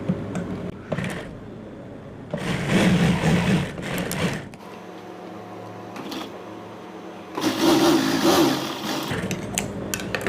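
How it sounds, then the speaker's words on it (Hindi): A sewing machine runs in two bursts while stitching the leg seam of a trouser. The motor whirs steadily and fairly loudly for a couple of seconds each time, with quieter handling noise between the bursts and no talk. "इस तरह से सिलाई लाएंगे एक पैर की।"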